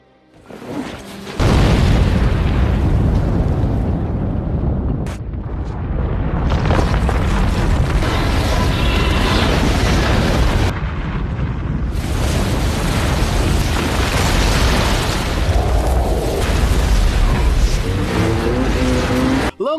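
A film sequence of an iceberg being blown up, with a heavy explosive boom followed by sustained roaring rumble and crashing debris, loud and dense throughout with no talk.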